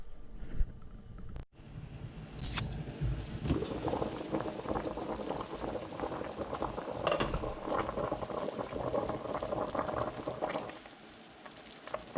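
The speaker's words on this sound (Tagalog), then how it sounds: "Pakuluin natin hanggang lumambot siya." Pork belly simmers in a pot of water at a steady, busy boil, with continuous soft bubbling and a few clinks near the start before the bubbling fades slightly.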